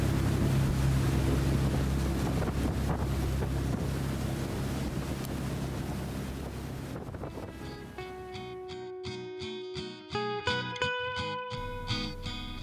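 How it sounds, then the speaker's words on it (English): Heavy wind rushes and buffets against the microphone aboard a sailing boat, loud and broadband at first, then easing and partly giving way to tonal musical notes in the final seconds. "It's a little windy in this section, but at least we have the current going with us."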